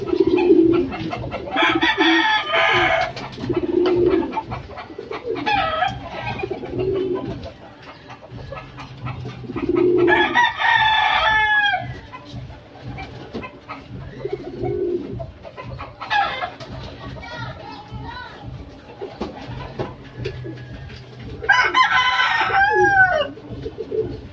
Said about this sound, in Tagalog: mukhang lilipad na naman to mga kalapatids